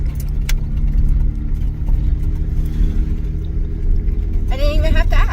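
A car climbing a mountain road on an old railroad route in the Bradshaw Mountains near Cleator, Arizona, with a steady loud engine and road rumble inside the cabin, ending with a voice.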